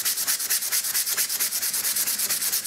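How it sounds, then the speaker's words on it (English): Wood being hand sanded before painting with oil-based undercoat and gloss, a steady, close, rhythmic scratching rub of rapid back-and-forth strokes with no voices. "make sure you give it a really good sand down"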